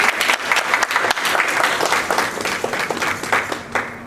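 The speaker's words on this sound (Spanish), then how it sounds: "un aplauso por favor a la comunidad" Audience applause for a community at a cultural event on Peruvian myths and legends, dense close clapping with uneven bursts that stays loud for a few seconds.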